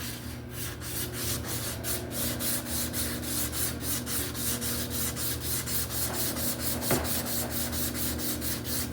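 Steady, rhythmic rubbing as a Ford 2.3 turbo engine block is hand sanded with fine 400 grit sandpaper, even back-and-forth strokes repeating close up for the whole stretch with no talking.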